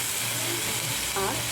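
Tomato with grated ginger frying in a pan gives a dense, steady sizzle that fills the short moment, loud and close, with a brief tonal rise near the end.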